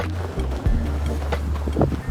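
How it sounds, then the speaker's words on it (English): Gusty wind buffets the microphone outdoors on plowed winter trails, a low rumbling roar with a few stronger blasts breaking through. "It's a little windy out here"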